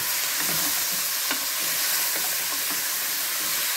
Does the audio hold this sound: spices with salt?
yes